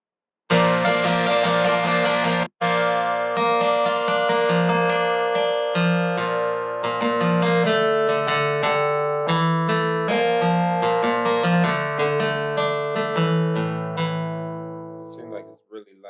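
Electric guitar run through the Guitar Rig amp plugin inside Reason, played loud and close as a busy stream of plucked notes and chords with one brief dropout early on, fading near the end.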